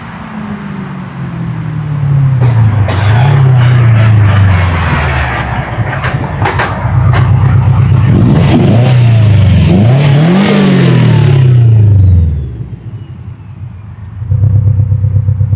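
A tuned 600+ hp Subaru Impreza's engine revs repeatedly, the exhaust note climbing and dropping in several loud, close sweeps, then cutting back to a steady idle.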